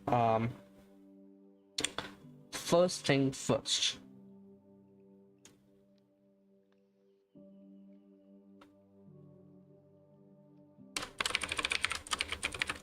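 Typing on a computer keyboard that sometimes fails, heard as short bursts of quick key clicks at the start and again at the end, with a voice talking in between.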